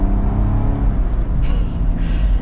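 A 2024 Ineos Grenadier Fieldmaster accelerating, heard as a loud, steady engine rumble and whir that builds slightly throughout.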